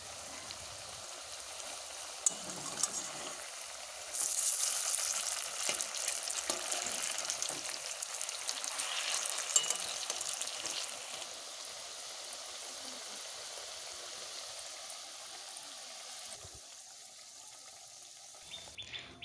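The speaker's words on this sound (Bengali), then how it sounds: "পকোড়াগুলো ভাজা প্রায় কমপ্লিট এবার নামিয়ে নিচ্ছি" Vegetable pakoras frying in hot oil, a steady close sizzle and crackle that swells louder partway through, then eases to a softer, even bubbling hiss with no voices over it.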